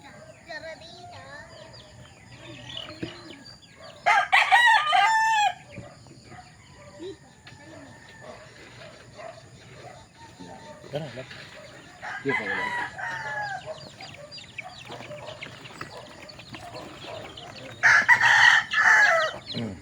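Young ten-day-old chicks and roosters in a ring, giving loud bursts of crowing and clucking three times amid quieter background chatter, with people talking between the calls.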